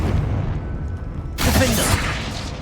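In Hogwarts Legacy, a Confringo blast spell goes off in a sudden loud burst of explosive noise that decays over about a second after a quieter stretch of game ambience.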